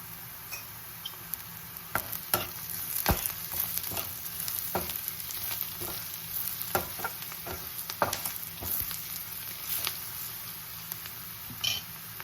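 Onions browning in a pan as turmeric goes in for a ridge gourd curry, a constant sizzle broken by sharp pops and the clicks of a spoon stirring, close up with no voices.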